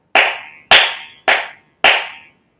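Four loud, sharp flamenco palmas hand claps, evenly spaced about half a second apart, each a crisp close smack with a short decay and silence between, no talking.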